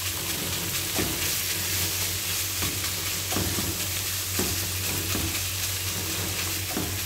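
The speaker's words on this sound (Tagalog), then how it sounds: "Ilagay na natin ang ating ground beef. At ganunin ko to siya guys para hindi siya magbuo-buo." Ground beef sizzles steadily in a hot pan for spinach stir-fry, with a spatula scraping and stirring through it in repeated strokes; a constant low hum sits beneath the frying.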